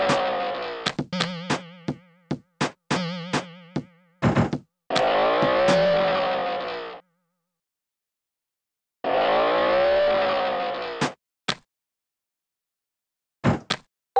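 Cartoon racing-game car sounds from a Peppa Pig theme park ride with a turbo boost: quick engine bursts and clattering effects, then two longer whooshing boost roars, and a few short blips near the end.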